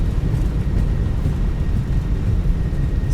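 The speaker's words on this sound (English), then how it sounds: "Touchdown and reverses." Airbus A319 reverse thrust just after touchdown in MSFS 2024, a steady, loud low-pitched engine roar with a broad rushing noise that holds constant without a break.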